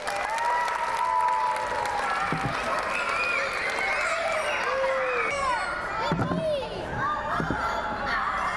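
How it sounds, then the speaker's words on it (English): Elementary schoolchildren in a school science program clapping together, a lively, full round of applause from a nearby crowd with children's voices and a few shouts mixed in. "Let's give her a round of applause."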